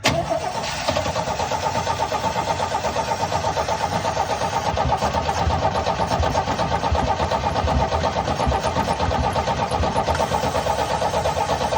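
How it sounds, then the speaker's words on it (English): A 1972 Chevy C10 engine freshly fitted with a new carburetor and electric choke cranks and catches, then runs steadily at a loud, close idle for several seconds with no talk. "we got this new carburetor on. Let's see how she'll run."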